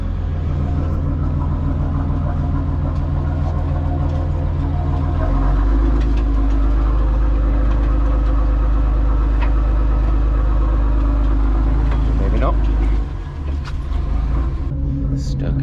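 A sailing Dutch barge engine revs up as the boat pulls away, a loud deep rumble that swells after a few seconds and holds steady, then drops near the end.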